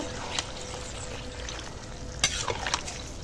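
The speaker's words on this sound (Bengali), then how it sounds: "এখানে কর্নফ্লাওয়ার গুলে রেখেছি তো চল এবার দিয়ে দিই কর্নফ্লাওয়ারটা ভালো করে মিশিয়ে নেব" Cornflour slurry goes into homemade chili chicken with soy sauce in a pan, giving a brief wet splash and stirring scrapes over a steady background hiss, mostly quiet apart from a few sharper clinks near the end.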